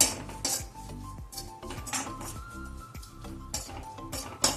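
A spoon mixing turmeric powder and rock salt into vegetables in a metal dish: quick, close clinks and scrapes of metal on metal in an irregular rhythm, with no talking.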